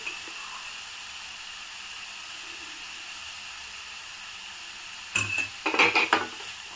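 Carrots fry in ghee in a pan over low heat, a steady faint background hiss giving way near the end to a louder burst of sizzling and stirring scrapes.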